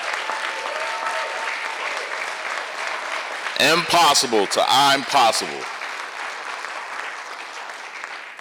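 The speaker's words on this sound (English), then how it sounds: "let's give it one more round of applause" Audience applause at a National Hunger and Homelessness Week storytelling event, steady clapping throughout with a speaker's short remark breaking in over it midway.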